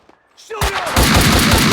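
Max Payne 2 gunfire: after a brief quiet start, loud shooting erupts at about half a second and continues as a dense, sustained volley to the end.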